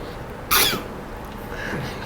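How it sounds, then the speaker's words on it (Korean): A single sharp cough, close and fairly loud, breaks a quiet room background, followed by faint rustling. "아, 기침 나왔어?"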